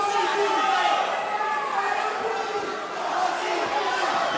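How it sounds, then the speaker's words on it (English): Arena crowd at a Venator FC mixed martial arts fight chanting and shouting a fighter's name during the fifth round, a dense roaring wall of voices that swells and dips slightly, continuous throughout. "The crowd shouting for Botti's name."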